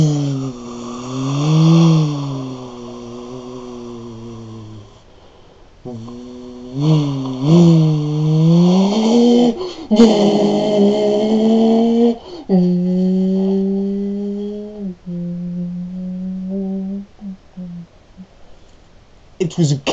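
A voice imitates a car driving by, with wavering tonal hums that rise and fall like engine revs. The bursts are loud and come in several separate runs with short pauses between them.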